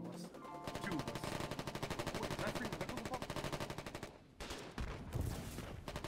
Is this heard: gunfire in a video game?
yes